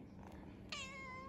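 A single meow from a cat in a home kitchen, fairly close and clear, rising at the end and holding a drawn-out tonal note over a quiet room background.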